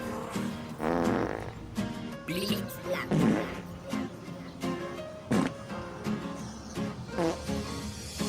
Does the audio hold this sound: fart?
yes